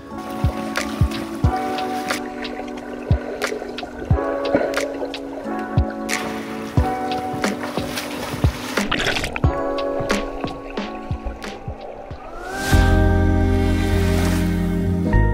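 Swimming laps in a large outdoor hotel pool at a Red Sea resort in Makadi Bay, with steady rhythmic splashing and water churn from strokes close by, ending in a louder, denser rush of water.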